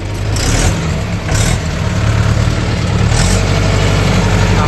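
A village tractor engine runs steadily just after starting, fully heated up with water coming out of it, a loud close low throb with no talk.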